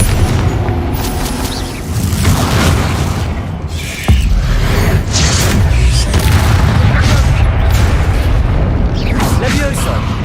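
Repeated Confringo blasting-curse explosions in Hogwarts Legacy, loud booming bursts with rumbling tails over dense game noise, one sharp blast standing out midway.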